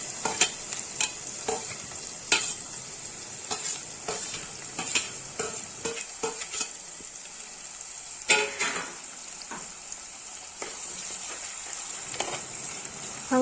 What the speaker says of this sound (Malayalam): ഉലുവ പൊട്ടി വരുമ്പോഴത്തേക്കും നമ്മൾ ഈ ചതച്ച് വെച്ചിരുന്ന ഇഞ്ചി, വെളുത്തുള്ളി, കൊച്ചുള്ളി അതെല്ലാം നമ്മൾ അതിൻ്റെ അകത്തോട്ട് ഇട്ട് കൊടുക്കണം